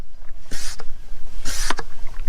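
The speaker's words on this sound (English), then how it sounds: "Pump this to create a vacuum." Hand-operated oil extractor pumped to build vacuum during a mower oil change, two distinct whooshing pump strokes about a second apart, close and clear.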